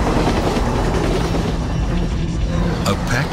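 A loud subway commuter train rumbles along the track at rush hour, heavy and close, with a continuous roar and rattling wheels.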